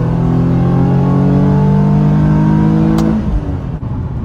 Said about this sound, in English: we'll switch over to manual mode, downshift, do maybe a third gear pull